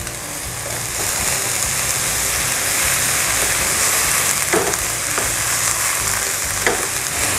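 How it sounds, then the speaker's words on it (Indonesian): Drained cassava peels frying in a pan of hot oil, a steady, loud, dense sizzle that crackles on without pause, with occasional stirring knocks. "Sekarang kita masukkan kulit singkong yang sudah ditiriskan."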